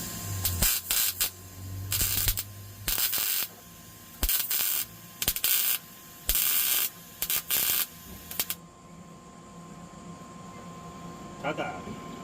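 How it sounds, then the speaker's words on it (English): MIG welding a rust repair patch panel onto a Jeep YJ, with repeated short bursts of loud crackling hiss separated by pauses and ending in quieter shop noise. "Now we're going to weld this in."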